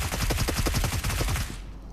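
Rapid automatic gunfire rings out in a battle royale video game as a player shoots down a bot, a dense burst of about a dozen close, punchy shots that stops abruptly after a second and a half.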